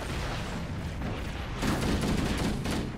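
Heavy gunfire in Halo: Combat Evolved Anniversary, a dense, loud continuous barrage of shots and blasts that swells louder midway through.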